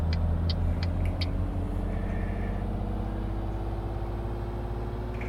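Heavy truck in Euro Truck Simulator 2, a G27-driven run from Oslo to Kalmar, slowing on engine braking through the gears: a steady deep engine drone with a gradually shifting pitch, continuous and close, alone without talk.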